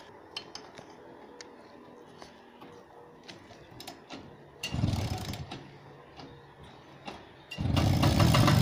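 A repaired motor scooter engine cranks with a short loud burst, drops back, then fires into a sustained, louder running roar near the end, preceded by scattered light mechanical clinks and taps.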